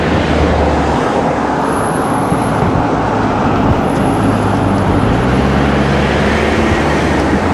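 Car held in one gear while accelerating hard up a short incline in Hackbridge, its steady engine drone and tyre roar mixed with road and wind noise, constant and loud with no gear changes.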